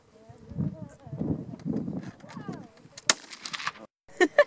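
Gunshots ring out at target shooting in the Southern California high desert, a sharp crack followed later by two quick reports, while people talk and call out to each other in between.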